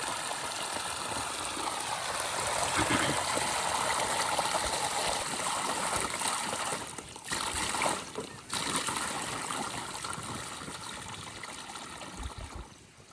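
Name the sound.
borewell water flowing intermittently on a farm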